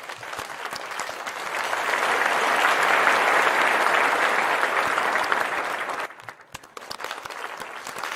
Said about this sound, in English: A big round of applause, please, everyone.